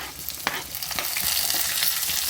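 Finely chopped onions and curry leaf sprigs fry in a pan for North Karnataka cluster bean palya, a close, continuous sizzle broken by a few sharp spatula scrapes and stirs.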